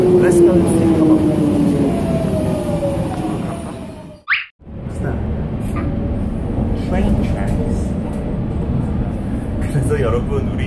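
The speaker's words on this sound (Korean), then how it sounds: "그래서 여러분 우리 이제 영국 지하철 안에 있죠" A London Underground subway train rumbles and clatters with a steady mechanical roar, broken by a brief sharp tone and a moment of near quiet partway through, while people talk over it.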